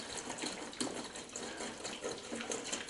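Rust removal liquid is poured steadily into a basket during a drill press restoration, making a continuous soft splashing gush at low level with no talking.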